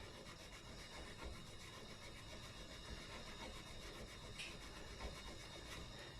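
Guitar fret being sanded with 800 grit abrasive on a rubbery, eraser-like block: a faint, continuous dry rubbing and scraping with steady back-and-forth strokes, close up and alone.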